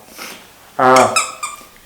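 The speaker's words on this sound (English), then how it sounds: "Sorry if you hear some noise, that's my dog." A dog lets out a short, high whine or yelp close by, followed by a couple of brief squeaky sounds, with quiet background otherwise.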